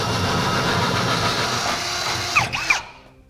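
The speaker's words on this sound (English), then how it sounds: "With our holes enlarged using several different sizes of drill bits, we can finish it up over our final size of 3/8." A power drill bores out holes to a 3/8 inch final size while fitting Firestone Sport-Rite air helper springs, a loud, steady close whine that bogs near the end and then stops.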